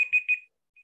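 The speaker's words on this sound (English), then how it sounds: "It's my timer." A countdown timer alarm beeps during a topology conference talk, three quick bright electronic chirps in the first half second, then a fainter fourth beep, with no talking over it.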